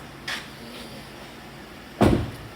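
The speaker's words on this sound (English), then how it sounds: "So for this, we'll close the door." A truck door is closed during a pre-trip walk-around inspection, giving one solid thud near the end after a faint earlier click, close by in a quiet setting.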